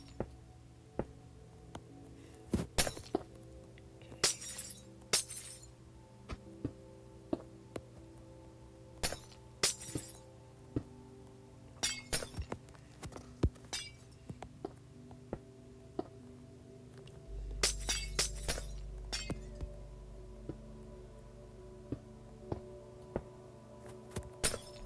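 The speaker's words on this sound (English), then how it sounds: "Now fill the rest with normal stained glass." Cyan stained glass blocks being placed in Minecraft, heard as a scattered series of short, crisp clicks and taps at an irregular rhythm, with a low steady hum underneath.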